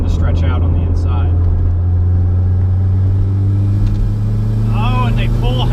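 A Toyota MR2 SW20 fitted with a station wagon engine, around 300 whp, pulls uphill with a deep, steady engine drone and a low rumble throughout, while people talk over it inside the car.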